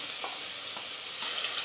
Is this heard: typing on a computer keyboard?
no